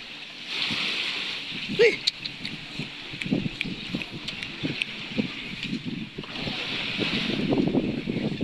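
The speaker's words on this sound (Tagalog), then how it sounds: "So malakas ang hangin at saka alon dito." Strong wind buffets the microphone while ocean waves surge and break along the coast at Placer, Surigao del Norte, a steady roar throughout with a louder gust-and-surf swell near the end.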